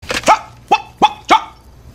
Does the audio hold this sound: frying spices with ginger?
no